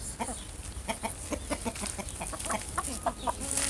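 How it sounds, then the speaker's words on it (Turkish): A flock of backyard chickens clucks repeatedly after being called to feed, a busy rhythmic patter of short clucks nearby over steady outdoor background noise. "Şimdi tavuklar için yem ayarladım. Onları çağıracağım ve gelecekler."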